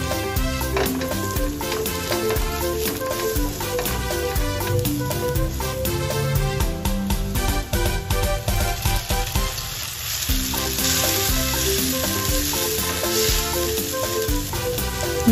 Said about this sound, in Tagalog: Mag-saute na tayo. Bawang, sibuyas, tsaka kamatis.